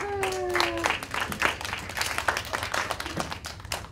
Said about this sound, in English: Yay, clap for her